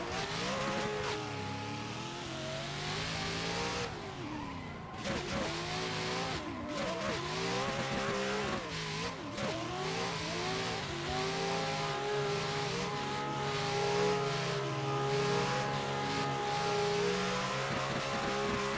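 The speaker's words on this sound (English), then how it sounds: "kind of very impressed with how this Shadow Realm S14 is driving" Nissan S14 drift car in a racing video game, its engine revving loud and continuous with wavering pitch as it slides, tyres squealing throughout a tandem practice run.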